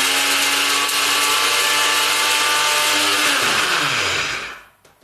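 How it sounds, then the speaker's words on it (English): A bullet-style blender blitzing curry paste ingredients runs with a loud, steady whir for about four seconds, then winds down and stops, with no talking. "a blitz in the bullet. Give it a little rattle around."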